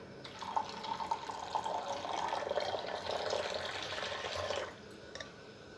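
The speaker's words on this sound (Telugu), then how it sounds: "ఇలా చింతపండు రసం తీసుకున్న తర్వాత దీంట్లో కొద్దిగా వాటర్ వేసుకోవాలి." A small amount of water pours into a bowl of tamarind juice, a close, gentle splashing stream lasting about four seconds before stopping, followed by a couple of faint drips.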